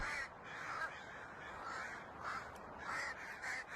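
Several crows caw back and forth in harsh, repeated bursts, moderately distant, over a faint background hiss.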